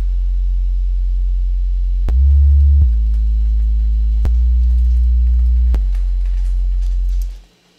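A sine-wave sub bass oscillator in the Propellerhead Reason synth, producing a pure, deep humming tone that shifts between a few sustained low notes, each change marked by a small click from the lack of attack, then cutting off at the end.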